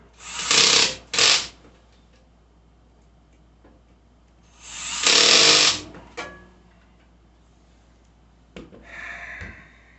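Hardware on a Perlesmith triple floating wall-mount shelf being tightened, several loud, close bursts of rapid ratcheting clicks separated by pauses, the last burst shorter and fainter.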